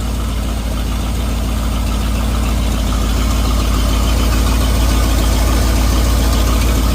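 A 1955 Buick Super big block engine idles close by with a steady, loud low rumble and rapid even pulsing throughout, with no speech.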